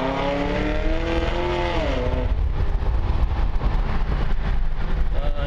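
A 2010 Camaro 2SS with a Magnuson supercharger accelerates hard, its close, loud engine note climbing in pitch and then swelling into a steady, rough roar.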